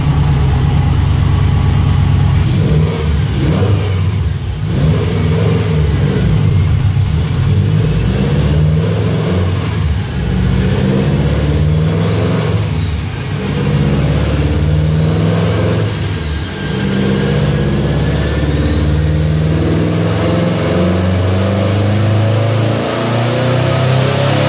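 A Subaru STI fitted with a GTX35R turbo roars through a sustained power pull, its engine loud and close as the revs climb steadily with a rising turbo whine toward the end.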